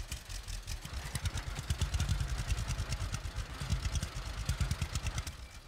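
A tractor engine running in the farming game Farmers Dynasty, a rapid, even diesel chug with a rough, clattering pulse, heard close and steady throughout.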